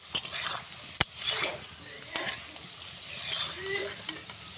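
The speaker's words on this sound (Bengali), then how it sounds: "আলু প্রায় লাল লাল ভাজা হয়ে গেছে" Potatoes seasoned with salt and a little turmeric fry in hot oil, a steady crackling sizzle broken by a few sharp scrapes and clinks of a stirring utensil against the pan.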